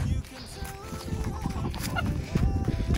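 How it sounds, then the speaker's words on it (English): Chickens in a backyard coop cluck and squawk nearby in short overlapping calls, with a person's voice mixed in. "We have 8 chickens."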